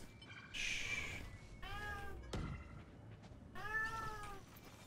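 A pet cat meows loudly and insistently beside a gamer playing Valorant: several drawn-out, rising-and-falling yowls with pauses between them and a sharp knock in the middle. No one speaks.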